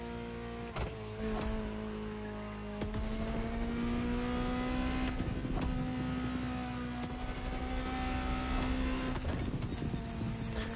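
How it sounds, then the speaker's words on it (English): Ferrari engine in the racing game The Crew Motorfest, a steady droning engine note with a few shifts in pitch and level, a constant mechanical tone alone without speech. "just listen to the car you're driving."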